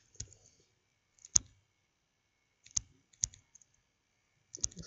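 A computer mouse clicks at a desk while someone works in the Unity3D editor: five sharp, isolated clicks spaced irregularly over quiet near-silence, close and fairly soft.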